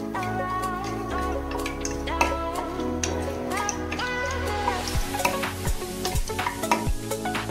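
Mutton is stirred with a spice mix in a sizzling pan, a spoon scraping and clinking against the metal in irregular strokes over continuous frying crackle, close and fairly loud, with a low steady hum underneath.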